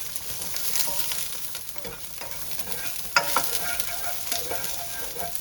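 Bean sprouts tossed into garlic in a hot pan burst into a loud, continuous stir-fry sizzle, with clattering stirring strokes and a sharper surge partway through.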